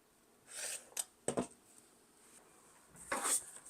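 Quilt fabric being cut along a ruler, probably with a rotary cutter, making a few soft, brief slicing swipes close by in a quiet room.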